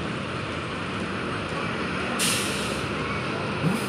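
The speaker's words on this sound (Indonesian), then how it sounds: "Masuk lagi bus STJ Morgul." An STJ bus pulls in, and its air brakes let out a sharp hiss over a steady rumble of engine and traffic. A second short hiss follows near the end.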